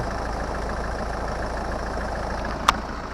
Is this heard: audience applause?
no